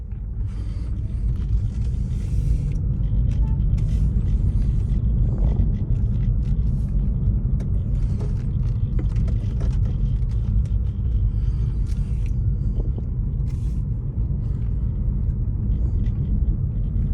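A Lexus F-Sport CT200H hybrid car is on a test drive, heard from inside as a steady low road rumble and tire noise with faint creaks from the cabin and no clear engine note.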